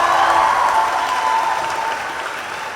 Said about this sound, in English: please give a huge round of applause to these students who performed today